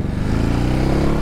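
A Ducati Hypermotard 950 motorcycle engine hums close by while riding, a steady drone whose pitch climbs slightly over a brief moment.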